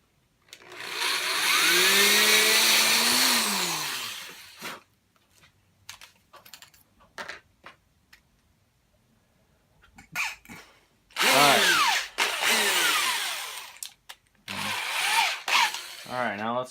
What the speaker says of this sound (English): now I'm gonna pre-drill the hole